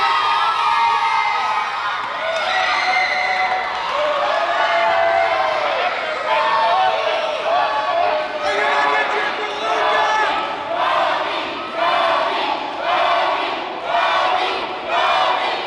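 A wrestling crowd in the town of Blacksburg cheering and chanting at a pro wrestling show: loud, continuous massed voices with rhythmic pulsing chants that swell throughout.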